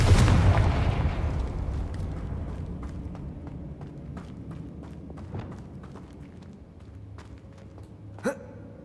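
A Confringo fire spell goes off in Hogwarts Legacy, a booming blast right at the start that fades into a crackling, decaying rumble, followed by a short sharp hit near the end.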